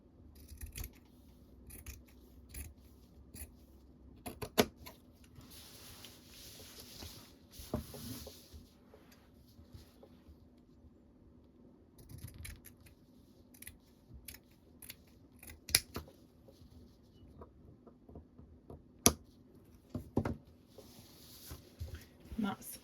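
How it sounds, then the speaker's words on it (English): Scissors snip through a piece of fabric for a no-sew junk journal, giving repeated sharp cuts in irregular bursts with quiet handling noise between them, close and moderately loud. "And I'm going to cut this piece of material out."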